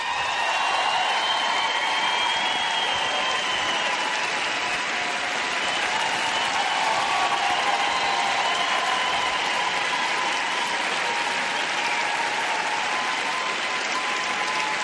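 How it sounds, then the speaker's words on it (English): Big, sustained applause from a large arena crowd in Prague for a figure skater, a continuous loud wash of many hands clapping for about fifteen seconds without letting up. "big applause for him"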